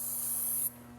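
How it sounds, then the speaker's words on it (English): A short burst of aerosol cleaner spray on a Harley-Davidson 43mm fork part, a loud close hiss lasting under a second before cutting off sharply. "Let's spray it off"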